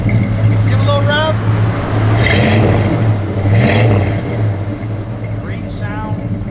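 A 1972 Chevrolet Monte Carlo V8 idles with a steady low rumble, then gets a couple of quick blips of the throttle that swell and fade. It is heard up close, with voices talking over it.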